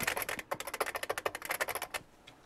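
Rapid, crisp clacking of an IBM 5251 beam spring keyboard, loud and close, keystrokes in a fast irregular rhythm for about two seconds before stopping.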